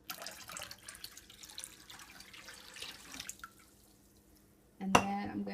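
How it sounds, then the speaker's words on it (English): About a cup of apple cider vinegar poured into hot water, a trickling, dripping liquid stream over several seconds that fades out, followed by a louder burst of splashing and clinking near the end. "And then I've got 1 cup of apple cider vinegar, or just about 1 cup. I'm going to pour it in."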